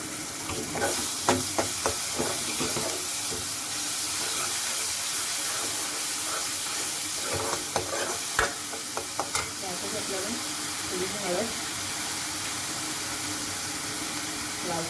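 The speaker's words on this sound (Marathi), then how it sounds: "त्यात आपल्याला वाटण घालायचं. मी 1-2 चमचे घालते वाटण." Ground spice paste goes into a hot pan for a Marathi-style ridge gourd curry, giving a steady close sizzle and frying hiss with occasional stirring scrapes.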